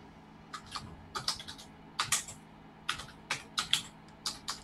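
Quick bursts of typing on a computer keyboard, irregular clusters of crisp key clicks close by and fairly quiet against a low room hum, with no voices.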